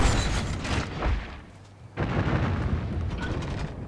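An explosive shot in the video game Dragon's Dogma: two heavy booming blasts with rumbling noisy decay, the second following a brief lull, loud and close with no talking.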